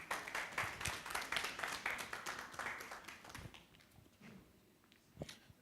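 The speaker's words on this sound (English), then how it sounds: "And a hand clap." A seminar audience gives a round of hand claps, a dense rapid clapping that runs for about three seconds and then thins out to a few scattered, fainter claps, fairly quiet overall.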